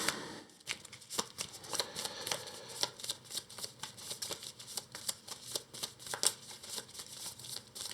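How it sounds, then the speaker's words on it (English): A deck of cards from the board game Earthborne Rangers is shuffled close up, with a run of quick papery riffles and flicks repeating in an uneven rhythm for several seconds, soft and with no talking. "Grab the grassland and get the valley set, shuffle it."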